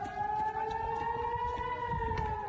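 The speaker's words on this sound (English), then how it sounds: "Sirens blare during a rocket attack on southern Israel today as people run for cover in shelters." Civil defense air raid sirens wail continuously during a rocket attack in southern Israel, a sustained, slightly wavering tone heard at a distance over low background rumble.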